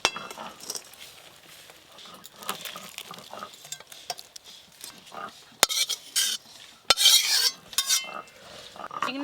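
Boiled chikni greens are tipped out of a pot and stirred with a metal utensil, giving scattered clinks, scrapes and wet sloshing, with a few louder clatters toward the end and quiet moments between.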